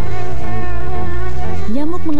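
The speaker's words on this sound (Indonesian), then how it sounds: "Nyamuk mengancam masa depan anak kita." A mosquito buzzes loud and close with a steady, whining drone that wavers slightly in pitch, heard alone in a Baygon insecticide advertisement.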